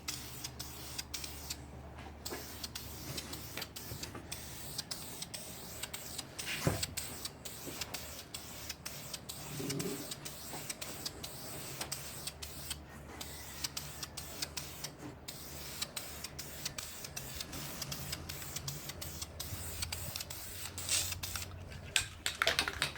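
Dually truck wheels being spray painted, with a continuous hissing spray running throughout at moderate, close range and small clicks and rustles mixed in.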